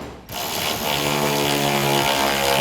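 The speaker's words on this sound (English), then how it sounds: "we can take our 8mm socket and tighten these down" An 8mm socket tightens tail light bolts on a 2017-2022 Ford F-250, heard as a loud, continuous mechanical whirring buzz that starts abruptly after a brief quiet moment and holds steady to the end.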